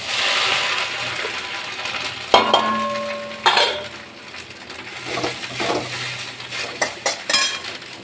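Grated coconut dropped into hot oil with bay leaf, cumin and whole garam masala, sizzling steadily in a pan while a utensil clinks and scrapes against the metal in several sharp knocks.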